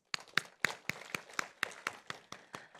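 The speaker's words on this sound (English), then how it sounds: "A gentle round of applause from all of us." A sparse round of clapping at a government workshop in Chennai, about a dozen distinct, fairly quiet claps in an uneven rhythm from a small group in a hall.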